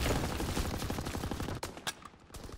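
Rapid automatic gunfire from the World War II shooter game Call of Duty: WWII, a dense loud burst of shots through the first second and a half, then a few sharper isolated cracks trailing off.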